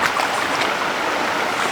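Fast-flowing trout stream water rushing over white rocks, a steady, full wash of noise close by with no breaks and no voices.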